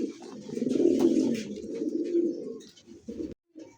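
A male Giribaz high-flyer pigeon coos nearby in a long, throaty, rolling call that fades out, followed by two short coos.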